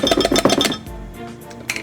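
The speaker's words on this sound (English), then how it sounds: "I'm gonna take my cornstarch and mix it together with my water." A utensil mixes cornstarch into water, giving a quick run of bright clinks and taps against a dish, then a brief pause and a couple more scattered knocks, close and clear.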